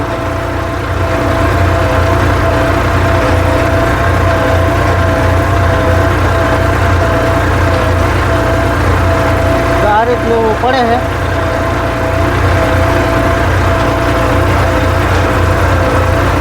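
A tractor runs in third medium gear through a wheat field, giving a loud, steady engine drone that lasts the whole time while someone talks over it.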